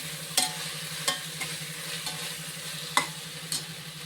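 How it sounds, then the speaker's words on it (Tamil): Vegetable biryani base frying in a pressure cooker as tomatoes go in, with a spoon scraping and clinking against the pot at irregular intervals over a low, steady sizzle and hum. "இப்போ தக்காளி போட்டுக்கணும்"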